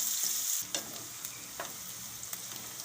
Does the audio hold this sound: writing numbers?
no